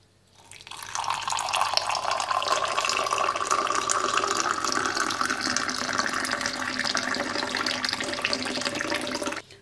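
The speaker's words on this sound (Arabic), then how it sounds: "نأخذ مقدار نصف ملعقة ونضيف إليها الماء الساخن" Hot water pours steadily onto half a spoonful of powder in a cup, a close, continuous splashing trickle lasting several seconds with no talk.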